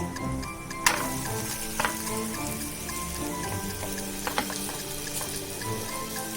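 Roti dough laid onto a hot griddle greased with ghee, giving a steady close sizzle with faint crackles and a few sharp ticks, no voices.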